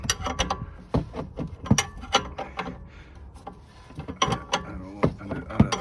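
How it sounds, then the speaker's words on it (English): Ratcheting wrench clicks and metallic knocks from loosening the top bolt of a BMW E60 suspension strut, bursts of close, sharp ratchet clicks separated by brief pauses, with no talking. "open the other three bolts on the top, which holds the suspension strut support"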